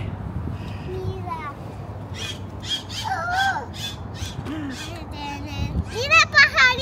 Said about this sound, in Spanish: hay muchos pajaritos en el cielo